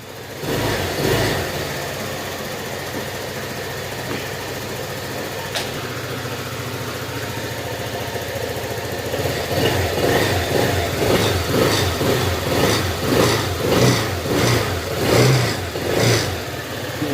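A motorcycle engine, just repaired after a camshaft fault, idles steadily up close, then revs up into a smooth, rhythmic running pulse; no one speaks.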